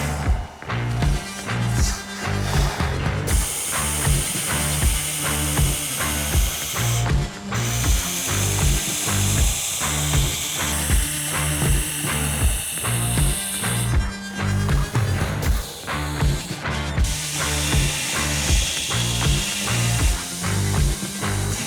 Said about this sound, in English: Now I straighten the spine again, round it already on our big grinder over there